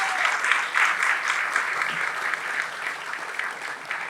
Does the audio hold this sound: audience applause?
yes